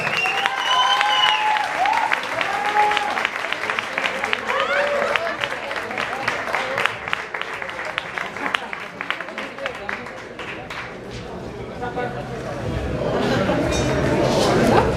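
A live-session audience applauds to send off the band, with steady clapping running throughout as voices and whoops cut in near the start, easing slightly midway before swelling again at the end.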